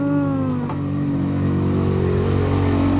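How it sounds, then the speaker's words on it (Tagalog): Motorcycles rev close by with a loud, continuous engine drone that rises slightly in pitch, steady and unbroken. "Langas kay mga motor"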